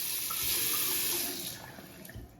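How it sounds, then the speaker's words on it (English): Water runs steadily from a tap into a sink, a close, continuous hissing splash that eases slightly toward the end, with no voices. "then turn the tap back on"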